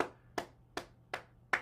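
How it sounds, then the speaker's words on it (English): Cupped hands clap against the body in a self-massage for circulation, five evenly spaced, sharp slaps about a third of a second apart, moderately loud and close with nothing else heard. "I'm a little less firm on the clapping because my hands are still a little sore"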